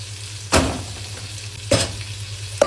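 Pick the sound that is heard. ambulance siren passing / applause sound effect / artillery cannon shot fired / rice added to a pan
rice added to a pan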